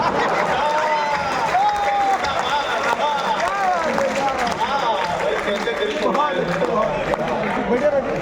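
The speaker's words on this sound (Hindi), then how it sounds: "तालियां बजा रहे हो।" A crowd at a Hindi poetry recital applauds steadily, clapping blending with cheering and voices throughout, loud and continuous.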